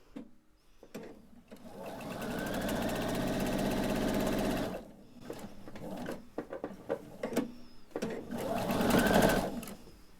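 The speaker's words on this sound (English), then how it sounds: "So I'm going to go ahead and get started and sew the 1/4 inch seam here." A sewing machine stitches a quarter-inch seam joining quilt pieces, running in a steady loud mechanical whir for a few seconds, stopping, then starting again in shorter uneven bursts, with no voices.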